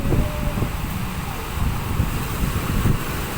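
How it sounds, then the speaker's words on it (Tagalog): Large waves about five feet high on a seashore, a steady rushing roar of surf mixed with wind noise, moderately faint and with no voices. "5 feet pa rin yung laki ng alon"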